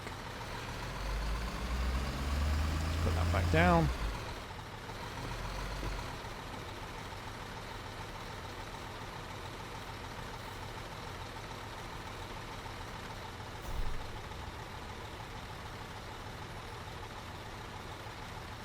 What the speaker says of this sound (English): there's the MAN half or small half-pipe truck